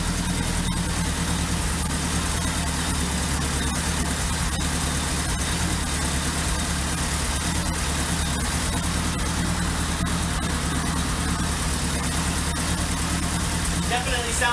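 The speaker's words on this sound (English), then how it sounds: "Definitely sounds like an exhaust leak." A Honda DC5 car engine idles with a suspected exhaust leak, a loud, steady, close drone that holds unbroken throughout with no change in pace.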